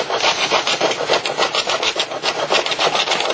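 A tool steel scraper being pushed along a ski base in quick repeated strokes, a close, rasping scrape with an even back-and-forth rhythm.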